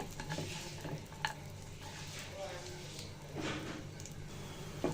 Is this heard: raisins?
yes